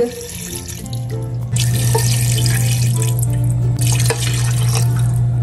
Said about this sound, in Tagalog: Tapos ay maglalagay lang din po ako ng tubig.